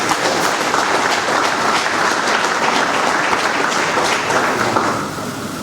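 Postal workers in the hall give steady, dense applause at the closing ceremony of the 40th ordinary session of the Pan African Postal Union. The loud, sustained clapping from a crowd eases slightly in its last half second.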